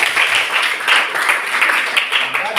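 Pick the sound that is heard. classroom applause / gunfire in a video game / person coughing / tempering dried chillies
classroom applause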